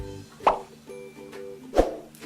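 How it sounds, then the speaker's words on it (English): Downloaded transition sound effect: two short, bubbly plop sounds about a second apart, close and moderately loud over a faint tonal background. "sound effects can be like this."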